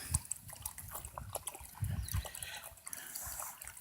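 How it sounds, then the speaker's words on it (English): Water running out through a drain after filling up, a soft trickling and sloshing flow heard at low level throughout, with faint background noise. "Water's filled up, going out the drain."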